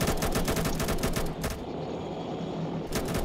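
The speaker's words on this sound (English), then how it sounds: "Why are my shots going off all screwed?" Ship gunfire in a naval battle video game, heard as rapid bursts of close, loud shots that pause briefly before resuming in quick succession.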